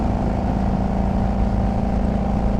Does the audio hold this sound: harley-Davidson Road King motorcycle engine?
yes